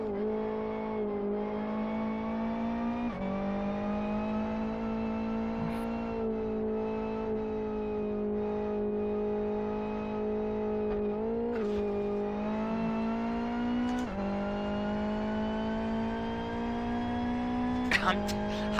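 A race car engine in the racing video game Live For Speed drones steadily, its pitch shifting as the car accelerates and shifts gears, with a few brief clicks near the end.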